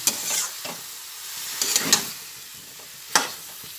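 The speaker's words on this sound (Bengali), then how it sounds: "মাংসটা দিয়ে দেওয়ার পরে ভালোভাবে মাংসটা এই মশলাটার মধ্যে মিশিয়ে দিচ্ছি" Chicken pieces stirred into a spice masala in a hot pan: a soft continuous sizzle broken by a few sharp spatula clacks and scrapes against the pan, close and without talking.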